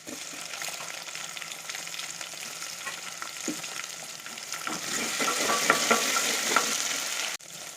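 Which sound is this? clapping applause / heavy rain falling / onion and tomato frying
onion and tomato frying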